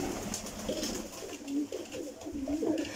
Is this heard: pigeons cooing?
yes